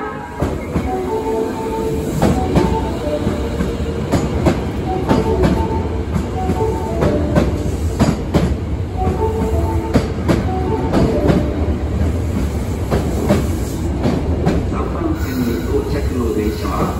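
An Osaka Metro Tanimachi Line 22 series train, an unrenovated car, pulls into Yaominami station, with steady rumbling wheels, rhythmic clicks and brake squeals under platform announcements and a chime.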